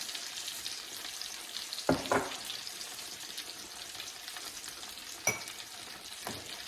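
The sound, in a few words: tomato sauce being mixed and cooking in a pan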